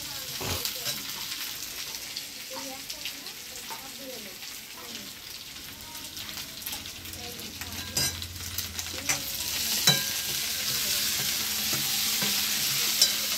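Food being stirred as it fries in a pan for an idli sambar meal, with steady sizzling and scraping stir strokes, a few sharper clinks of the utensil, fairly close and without talk.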